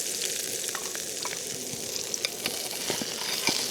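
Smash burger patties fry in a pan at a wild camp, giving a dense, continuous hiss with scattered pops and crackles, fairly loud and close, with no voices.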